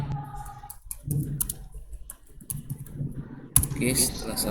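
Computer keyboard typing while entering names and a code, a run of quick close clicks mixed with a voice speaking over it.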